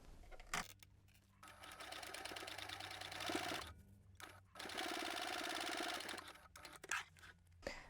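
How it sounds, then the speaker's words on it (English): A domestic sewing machine top stitches close to the edge of a slim fabric bag with a zipper, running in steady bursts with a loud, close motor whir and needle clatter, broken by short pauses. "we're going to top stitch from that edge about 1/8 of an inch or a couple of millimeters"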